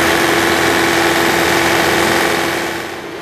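An SB Series refrigeration unit's engine running after an automatic preheat and start: a loud, steady mechanical drone with a constant hum and faint knocking vibration, easing off slightly near the end.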